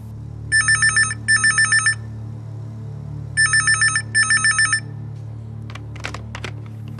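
A telephone rings in a Tamil TV serial scene, giving two pairs of electronic trilling bursts separated by a pause, clear and fairly loud over a steady low hum. A few faint clicks follow near the end.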